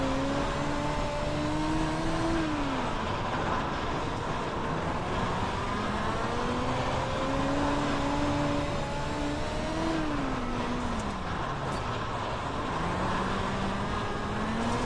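Dirt midget race car engine at Lanier in a racing video game, its tone droning steadily with repeated rises and drops as it revs through corners, loud and continuous with no voices.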